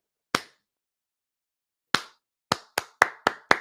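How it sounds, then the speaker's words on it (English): A single person claps alone, one sharp clap, a pause, then a quick run of five close, crisp claps. "I'm clapping because that will make me happy"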